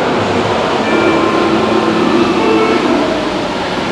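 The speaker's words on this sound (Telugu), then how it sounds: "వచ్చేసింది మన ట్రైన్." A driverless metro train pulls into an underground station in Paris early in the morning. Its loud, steady rumble and hiss fill the platform throughout, with no speech over it.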